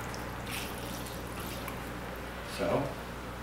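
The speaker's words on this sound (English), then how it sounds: "Pour the sulfite into the tray." Sulfite solution is poured into a tray during gold-platinum print processing, a faint liquid trickle heard mostly as a brief splashing pour near the end over quiet room noise.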